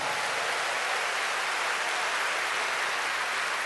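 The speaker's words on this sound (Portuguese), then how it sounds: "Pode aplaudir o Senhor." A church congregation applauds the Lord in a steady, even wash of many hands clapping, dense and continuous, with no voices standing out.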